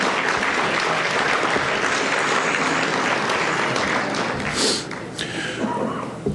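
A village state-of-the-village audience claps loudly and continuously, a dense roar of hands that holds steady before easing slightly near the end.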